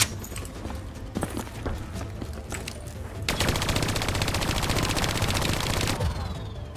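Gunfire in the Call of Duty Black Ops 3 video game, scattered sharp shots at first, then a loud sustained burst of rapid automatic fire for several seconds before cutting off.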